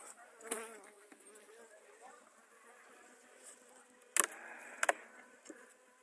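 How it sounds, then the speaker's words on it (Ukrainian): A soft, steady hum of many bees clustered in a hive after a frost, buzzing close by, with a few sharp brief knocks and rustles breaking through near the end. "Так, був приморозок, бджоли зібралися в клуб."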